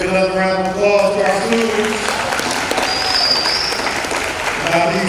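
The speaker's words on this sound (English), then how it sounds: "Give another round of applause to our" Applause from an audience at a high school gathering about a new field, steady dense clapping throughout with voices and cheers mixed in.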